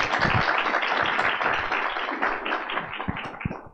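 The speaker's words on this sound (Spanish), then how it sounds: "le brindamos un aplauso" At a student congress on fighting corruption, an audience applauds a speaker: a burst of clapping with distinct individual claps standing out near the front, steady for a few seconds then thinning.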